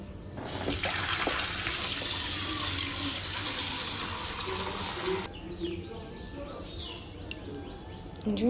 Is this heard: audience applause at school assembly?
no